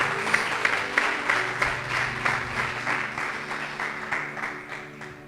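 A church congregation applauds after a call to praise the word of the Lord, steady clapping from many hands over a low hum and faint background tones, fading slightly toward the end.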